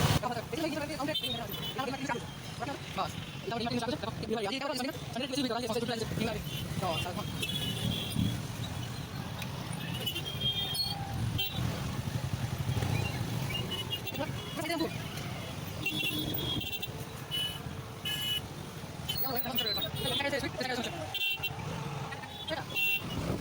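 Busy daily market street in Balangir with motorbike and car engines passing, occasional horn toots and a constant crowd babble close around, while a person talks throughout.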